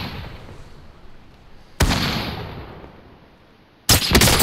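Two sharp gunshots ring out about two seconds apart in a shooter video game, each a loud crack followed by a long fading echo over quiet background ambience.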